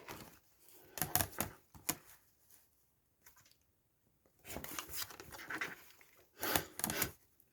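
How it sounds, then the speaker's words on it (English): A corner cutter snips the corners off a soft journal cover in a craft setup, making several close, crisp clicking snips and rustling handling in short bursts with quiet gaps between. "So I just cut a little snip off the corners, just so that it's going to make it nice and neat."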